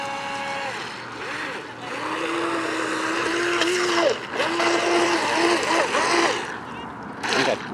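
DH 7009 RC boat motor at full throttle on a lake, a high electric whine that rises and falls in pitch as the boat speeds past, with bursts of water splash and spray along the way.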